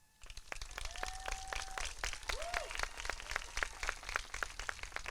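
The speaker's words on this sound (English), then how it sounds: "Let's give him one more round of applause for this amazing mural" An audience applauds at a community mural unveiling honoring AAPI heritage: dense, steady clapping sustained at moderate volume throughout, with a few brief whistles or cheers rising above the clapping.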